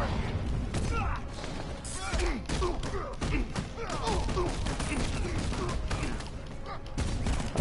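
Gunfire from the video game Batman: Arkham Knight, a dense fusillade of rapid shots and thuds running throughout, mixed with game voices and commentary talk.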